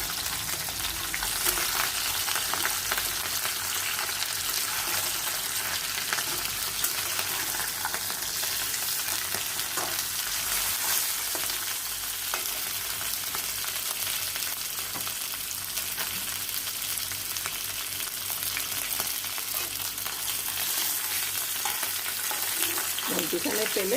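Fish pieces and lentil dumplings frying in oil: a dense, even, crackling sizzle that holds steady and close for the whole stretch, with no talking.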